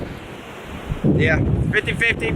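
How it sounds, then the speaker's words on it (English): Wind roars and buffets the microphone steadily while a voice speaks briefly over the gusts. "pretty windy, as you can hear."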